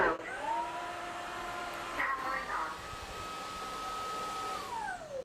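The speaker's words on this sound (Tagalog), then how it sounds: "So, nagmamop, nagva-vacuum, and deep floor cleaning in one." A Dreame vacuum cleaner running across a kitchen floor with mopping and deep cleaning, a continuous whirring motor hum with shifting pitch as it moves, fairly close and steady throughout with no talking.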